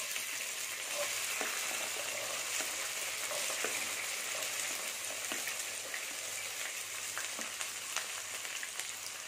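Whole small shallots fry in hot oil for Chettinad chicken gravy, a steady close sizzle with faint crackles and stirring scrapes running throughout, no voices.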